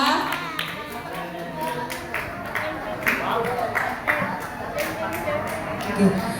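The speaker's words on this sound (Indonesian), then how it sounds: "tepuk tangan untuk Rizky." A short round of applause from a small crowd after a school poetry recitation, scattered claps fading out while voices murmur in the background.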